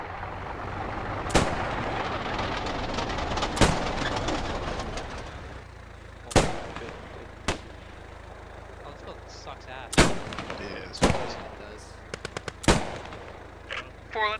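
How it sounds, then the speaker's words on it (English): Gunfire crackles in the World War II shooter Post Scriptum around a church, as sharp single shots ring out at irregular intervals, some close and some farther off, over a faint outdoor background with no talking. "There's some good shooting going on here."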